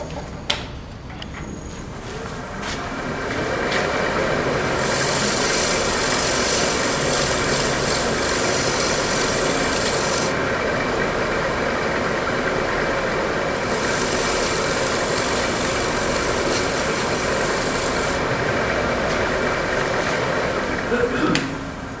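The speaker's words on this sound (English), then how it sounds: "I'm going to reverse the lathe." A wood lathe turning a square platter while running in reverse, a steady motor drone and broadband whir that holds for the whole stretch, with a bright hissing band that comes and goes twice.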